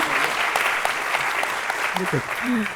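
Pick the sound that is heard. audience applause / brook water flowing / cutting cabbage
audience applause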